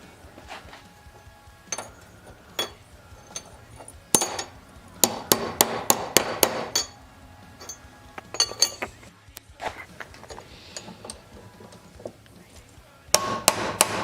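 Hammer blows in a garage while working on a Nissan 200SX, sharp metallic strikes coming in irregular bursts of several quick hits separated by pauses, close and loud against a quiet background.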